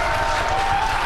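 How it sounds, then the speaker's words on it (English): A crowd of spectators at the SpaceX Falcon Heavy USSF-44 rocket launch cheers and applauds, a dense, continuous roar of clapping and voices. "you can see and heard it by the incredible excitement within the crowd behind me"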